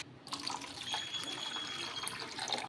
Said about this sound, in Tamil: மிக்சியில் 2 டம்ளர் தண்ணி கலக்கி ஆட் பண்ணிக்கலாம்